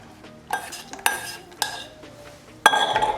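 Melted gelatin poured into hot sugar syrup cooked to 120 degrees for homemade vanilla marshmallows, with a few clinking utensil and pan sounds, then a louder sustained pour and stir near the end.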